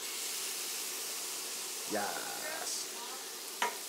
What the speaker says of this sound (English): we're gonna deglaze the pan